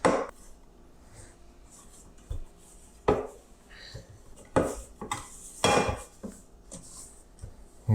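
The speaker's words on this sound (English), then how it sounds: "Get the stuff from the sides and really knead it for 5-7 minutes." Hands kneading a ball of dough for manti on a work surface, with irregular soft thumps, presses and slaps spaced a second or so apart, close and fairly loud against a quiet kitchen background.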